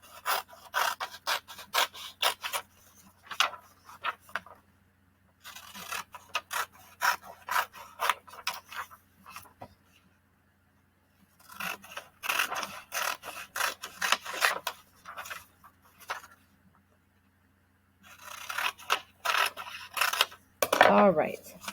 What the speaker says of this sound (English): grab your scissors and let's cut out our page.